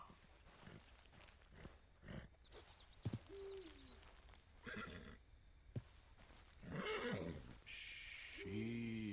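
A horse in the video game Red Dead Redemption 2 whinnies and neighs several times amid soft clip-clopping hooves, fairly quiet overall, with the loudest, fullest whinnies near the end.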